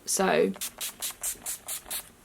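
NYX setting spray misted onto a face in about seven quick, evenly spaced hissing bursts, close and fairly loud, following a brief spoken word.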